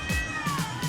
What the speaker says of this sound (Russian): Там еще здесь, короче, очень много кошек